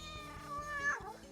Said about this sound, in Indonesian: Lu lihat. Itu kucing.